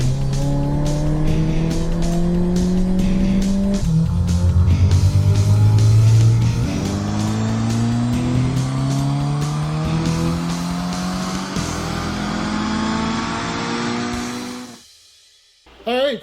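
Porsche Boxster fitted with a DIY straight-through exhaust using two 2-inch Evil Energy resonators, revving hard through rising gear pulls with a raspy, loud engine note up close, then lifting off into a sudden quiet before a brief final burst.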